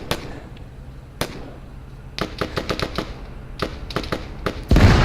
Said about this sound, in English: There's so much gunfire and small combats happening inside this town.